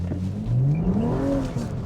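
A modified BMW M135i accelerates hard with traction control off, its engine note rising sharply in pitch over a couple of seconds, close and loud.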